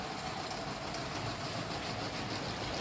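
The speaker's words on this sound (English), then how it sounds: "Lego passenger trains running around the layout here." A LEGO powered passenger train rolls steadily along its track on a tabletop layout, a continuous whirring rumble with faint rhythmic clatter and no voices.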